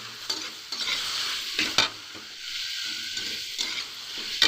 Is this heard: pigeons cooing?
no